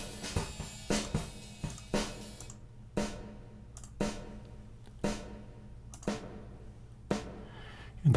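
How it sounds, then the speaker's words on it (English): A bright snare drum sample is struck eight times at an even pace of about one hit per second, each sharp crack followed by a short ambient decay, with no talking. "Like here's the snare sample."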